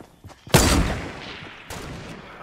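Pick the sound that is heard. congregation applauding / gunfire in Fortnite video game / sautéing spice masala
gunfire in Fortnite video game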